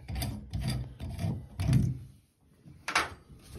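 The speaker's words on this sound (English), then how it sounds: "Now we're gonna remove this lock nut. You might need a glove, but this should come off by hand." A lock nut on a Delta shower faucet valve is turned off by hand, giving repeated rubbing, scraping bursts close up, then a short pause before a sharper scrape.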